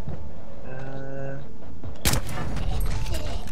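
Gunshot in the stealth video game Splinter Cell Blacklist: a single sharp, loud report partway through, followed by a noisy rumbling tail, with tonal game sound before it.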